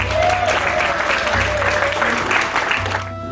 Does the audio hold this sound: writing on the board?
no